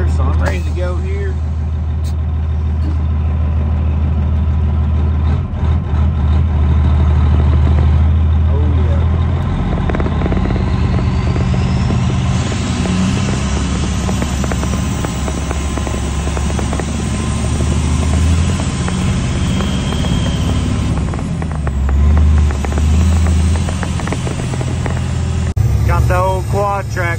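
A new dump truck on a farm, heading off to haul dirt, gives a continuous loud, close diesel rumble with shifting engine load and rattles throughout as it drives along.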